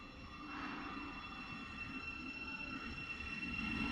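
A passenger train departs King's Cross for Baldock on the East Coast Main Line, a steady rumbling rolling sound with a faint high whine building gradually as it pulls away, no voices.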